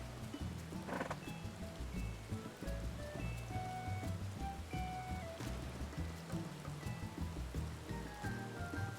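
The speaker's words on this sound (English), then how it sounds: "Let's get out of the rain anyway." Steady rain falls in Final Fantasy XIV, a continuous patter laid over the game's tonal background music, with a brief animal whinny-like sound near the start.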